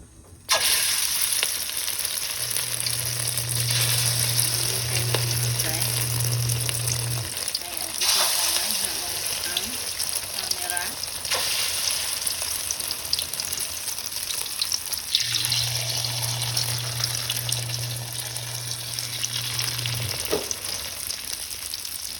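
Hot oil sizzles and crackles steadily, with two long stretches of a low steady hum and occasional clinks as fried eggplant is lifted and drained.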